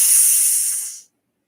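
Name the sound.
person imitating a hiss to scare cats off the table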